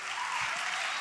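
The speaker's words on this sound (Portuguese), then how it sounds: "Aplauda ao Senhor pela vida da Ju" An audience at a church women's conference claps in a dense, even burst of applause, close and steady throughout one short second.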